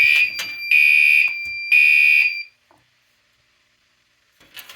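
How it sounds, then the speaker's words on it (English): A household smoke detector being smoke tested sounds piercing, loud electronic alarm tones in two long bursts after a brief chirp, then falls silent before a faint clatter. "let's do a smoke test of the smoke detector"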